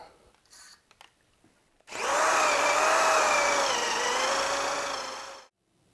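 A power drill runs at full speed cutting into a DRZ400S motorcycle handlebar, a loud steady whine with a slightly wavering pitch that lasts about three and a half seconds before stopping abruptly.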